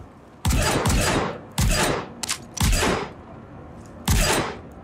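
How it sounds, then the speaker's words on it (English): Bursts of gunfire in the video game Star Citizen, about five sharp, loud, close shots with echoing tails in an uneven rhythm. "Oh, I'm just pumping him with rounds, bro."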